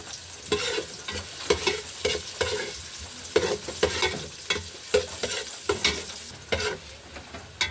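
Onion and garlic sauté in a pan for chicken tinola, a steady sizzle broken by frequent scraping stirs of a spatula at an irregular rhythm, close and clear with no voices.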